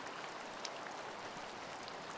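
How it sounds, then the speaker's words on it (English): Steady rain hisses across the whole moment in the sailing game Sailwind, a dense, even patter with no gaps and no voices. "Now we get some rain."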